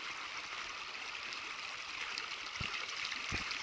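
Mountain stream water flows steadily near a sinkhole meadow in the Bihor Mountains, a continuous broadband rush with no pauses and a couple of faint low thumps near the end.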